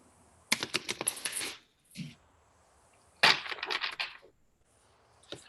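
Tarot cards being shuffled in quick riffling bursts, two main rustling flurries with a brief soft tap between, close and fairly quiet with no talking.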